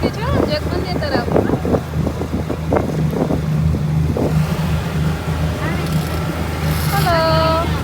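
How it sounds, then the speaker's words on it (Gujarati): A motorboat heads across the water toward Jag Mandir in Udaipur, its engine giving a steady low drone throughout, with voices talking over it and a few brief higher chirps near the end. "બોટ ઉતરી છે જગમંદિર તરફ."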